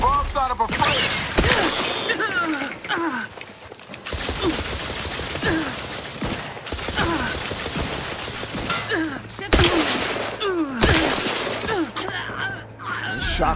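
Shock rifle fire in The Outer Worlds 2: dense, crackling bursts of shots repeat almost continuously and loudly, with sharp impacts and game voices mixed into the barrage.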